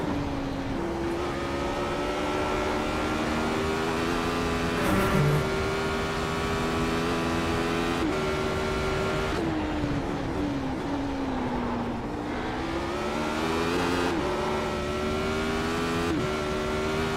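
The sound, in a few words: race car engine in iRacing racing simulator video game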